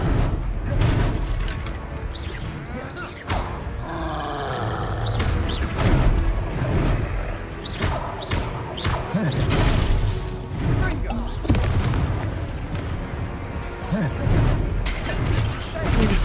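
Repeated explosive spell blasts in Hogwarts Legacy sound as booming, crashing bursts amid a busy combat mix, with a voice talking throughout.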